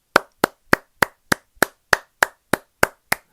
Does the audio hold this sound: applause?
yes